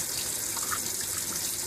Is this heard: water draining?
yes